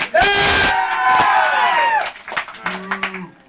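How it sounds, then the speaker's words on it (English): A canned crowd cheer triggered from a studio applause button on a local TV morning show, loud voices and some clapping bursting out together for about two seconds, then thinning into scattered hoots and claps. "I'll get the applause button here."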